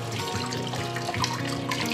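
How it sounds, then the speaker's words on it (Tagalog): Eggs washed under running tap water, a steady close trickle and splash with small knocks and shifts as the eggs are handled. "Malinis na po itong mga eggs na to, pero hugasan pa rin natin."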